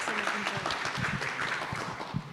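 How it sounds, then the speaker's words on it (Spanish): A lecture audience claps for a doctor being welcomed to speak on carpal tunnel syndrome treatments, with steady, dense applause filling the room for a couple of seconds. "Otro aplauso para el doctor, por favor."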